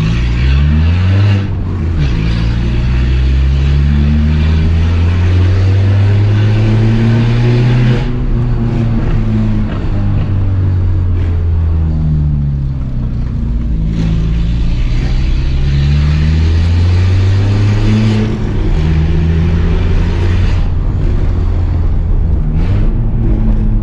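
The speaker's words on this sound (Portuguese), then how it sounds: "Vocês podem ver que mesmo com escape direto não tem ressonância nenhuma" A Peugeot 206 1.4 engine with a straight-pipe exhaust revs up and down repeatedly, rising and falling in loud, sustained sweeps with brief drops between pulls.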